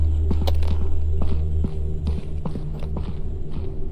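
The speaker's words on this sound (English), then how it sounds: "I hear footsteps." Footsteps in a horror video game, steady thudding steps over a constant low hum, fairly loud and close with no speech.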